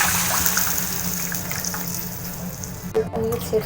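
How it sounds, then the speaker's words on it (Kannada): Water poured into a pot of buttermilk curry (majjige saaru) on the stove, giving a steady, close rushing splash for several seconds, followed by a few brief knocks and clinks at the end. "ನೀರು ಸೇರಿಸ್ಕೊಳ್ಳೋಣ."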